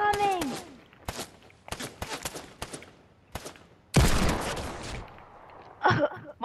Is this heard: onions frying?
no